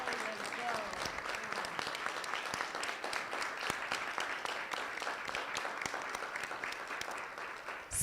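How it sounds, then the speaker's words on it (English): Sustained, dense applause fills the room for a pitch competition's student finalists, a steady wash of many clapping hands with faint voices mixed in. "I think we should give all of the finalists another round of applause for their job"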